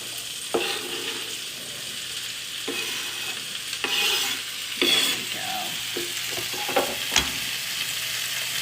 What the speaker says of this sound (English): And I'm gonna give them a nice stir.